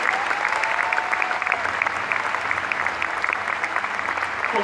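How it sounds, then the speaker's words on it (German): Audience at a fire brigade demonstration applauding: dense, steady clapping from a crowd, sustained and even throughout with no talk over it. "Und wie sehr ihr hier geschätzt werden, hört ihr jetzt am Applaus des Publikums."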